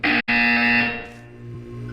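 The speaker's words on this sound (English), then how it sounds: "You will hear a buzzer." Harsh electronic buzzer from the Portal 2 wellness exercise, a loud, steady buzz broken once by a brief gap and then fading into a low hum, with no speech.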